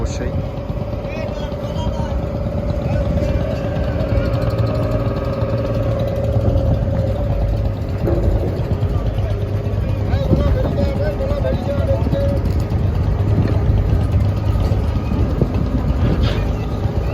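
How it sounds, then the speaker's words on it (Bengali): The engine of a small passenger launch boat drones steadily and loudly throughout, with water and wind noise mixed in and voices faintly in the background. "এরকম ছোটো লঞ্চে আসলে আমার ভ্রমণ করতে খুব ভালো লাগে"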